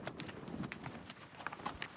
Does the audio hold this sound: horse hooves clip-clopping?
yes